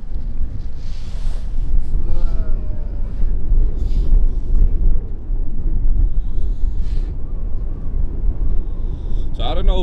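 Steady, loud wind buffets the microphone at Schiphol Airport beside runway 18R during a crosswind morning, a continuous low roar with gusty texture and a few faint high tones near the end.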